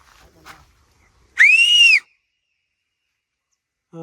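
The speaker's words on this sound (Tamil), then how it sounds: "ஒரு விசில் அடி ஒரு 10 டைம் கேட்கும்." A single loud, sharp, rising-then-falling whistle rings out on a mountain in Coonoor in the Nilgiris, lasting about half a second amid near silence, with faint scattered sounds before and after.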